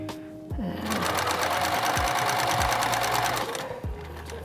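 A sewing machine back-stitches a scant quarter-inch quilt seam in a rapid, even mechanical chatter lasting about three seconds, starting and stopping cleanly, with a few soft knocks and handling noises around it.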